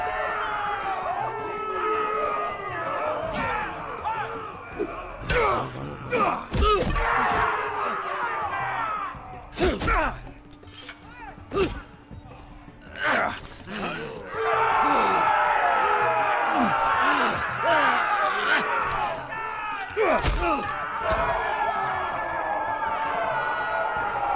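Arena crowd roars and cheers in the video game Game of Thrones: A Telltale Games, a loud sustained din that swells and dips over metallic clashes and thuds, with voices talking over it.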